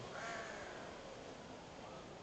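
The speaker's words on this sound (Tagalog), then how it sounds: "Crow." A crow caws at Manila Zoo, a harsh drawn-out call over a steady wash of outdoor noise, fairly close and moderately loud.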